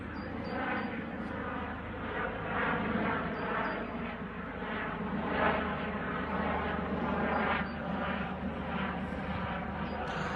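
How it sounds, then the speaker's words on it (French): A helicopter lingers overhead, almost hovering, its steady broadband rotor and engine roar holding at a fairly loud level for the whole stretch with only slight swells, no talk over it. "maintenant c'est l'hélicoptère qui passe."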